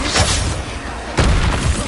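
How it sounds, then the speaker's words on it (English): A spell explosion in the Hogwarts Legacy video game erupts as a loud, sudden boom about a second in, following a quieter stretch of rumbling combat noise. "Explosion!"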